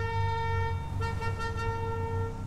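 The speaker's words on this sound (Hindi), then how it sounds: "ये हॉर्न को क्या कर दिया डैनी?" A modified musical car horn in GTA 5 sounds as a sustained, tonal, brassy blare with a brief pitch change midway, loud and continuous, with no voices over it.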